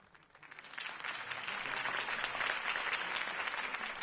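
A crowd in the video game Batman: The Telltale Series bursts into applause that swells from quiet to a steady, dense roar of clapping and holds for several seconds.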